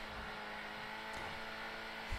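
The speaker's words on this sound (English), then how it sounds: "Look how amazing is the acceleration. The engine just pulls and pulls and pulls" The Ardent classic sports car in GTA Online accelerates, its engine holding a continuous, steady drone at moderate loudness as it keeps pulling, with no voices.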